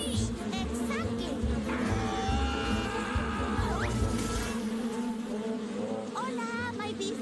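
Cartoon bees buzzing in a mangrove setting, a thin wavering drone under continuous background score and sound effects, with voices nearby.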